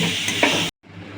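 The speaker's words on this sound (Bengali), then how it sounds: "ভালো করে মিক্স করে নেবো আমি দুধটাকে, যতক্ষণ না গলে যাচ্ছে" Milk filling for butterfly-pea flower pitha is stirred in a pan until it melts, making a brief close scraping sizzle that cuts off abruptly, then a quieter simmer resumes.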